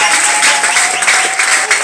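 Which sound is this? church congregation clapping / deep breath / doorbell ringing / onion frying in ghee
church congregation clapping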